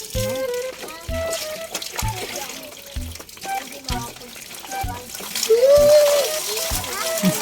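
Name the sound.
water splashing while bathing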